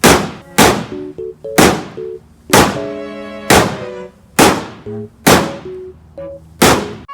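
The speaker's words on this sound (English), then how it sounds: "We're just gonna hope for the best, folks, and try to destroy this TV." An old CRT television struck repeatedly, about eight heavy ringing clangs in steady succession, each a loud thunk with metallic and glassy resonance decaying before the next blow.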